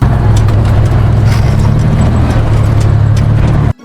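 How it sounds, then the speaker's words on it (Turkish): A loud, steady rumble of a garbage truck engine idling or running, continuous throughout, then cutting off abruptly at the end. "Çöp kamyonu da bu şekilde ses çıkartır."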